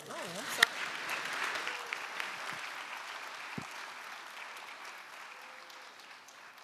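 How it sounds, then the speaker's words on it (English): A competition finals audience gives the venture finalists a sustained round of applause, a dense, even wash of clapping that slowly fades over several seconds. "how about one more round of applause for our 3 venture finalists"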